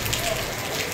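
Heavy rain falling in Ooty, a dense steady hiss of drops on surfaces that stays constant throughout, near and loud with no clear voice over it.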